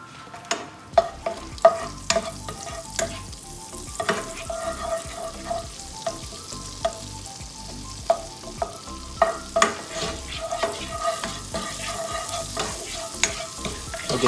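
Italian spices and chili flakes sizzling in hot oil and butter in a pan, a low continuous fizz broken by frequent sharp taps and scrapes of a utensil, close with no talk.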